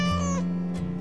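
A cartoon cat gives one clear, close meow with a rising, then falling tone, heard on its own.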